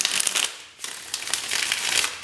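Tarot cards being shuffled in a pick-a-card reading, a close, dry papery riffling and sliding in a few quick bursts, heard alone with no voices.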